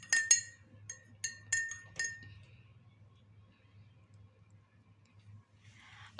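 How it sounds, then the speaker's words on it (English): A glass beaker of sugar solution stirred by hand, giving several sharp clinks of rod against glass in quick succession, then a near-silent pause. "we have to stir the sugar beaker also."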